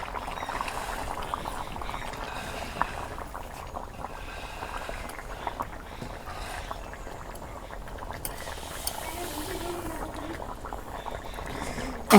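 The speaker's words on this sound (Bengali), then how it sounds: "এই দেখো মিষ্টি লাউয়ের বুলক উঠছে, এখন আমি মাছগুলো দিয়ে দেবো।" Sweet pumpkin curry bubbling steadily in a village cooking pot as fried rupchanda fish pieces are added, a continuous soft simmer with light liquid plops throughout.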